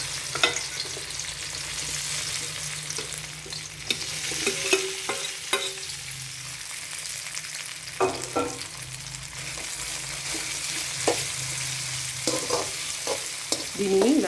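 Marinated cauliflower florets for desi-style gobi manchurian frying in oil in a kadai, a steady close sizzle with occasional stirring clinks and scrapes throughout.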